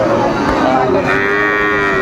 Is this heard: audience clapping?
no